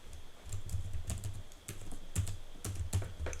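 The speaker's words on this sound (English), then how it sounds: "I'll just type in my password" A password being typed on a computer keyboard, a quick run of close key clicks with short pauses between bursts, no one speaking.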